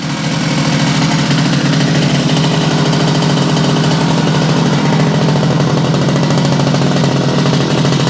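A Yamaha 100 Trailmaster motorcycle's two-stroke engine runs steadily at a fast idle, a loud, rattling buzz that continues unbroken and close up.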